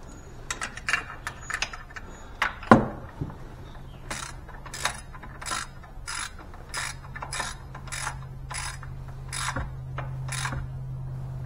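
A ratchet wrench clicks in quick bursts as bolts are tightened on the starter of an Axis 5 UTV. The close, crisp clicking comes in irregular runs with brief pauses, and a metallic clunk sounds early on.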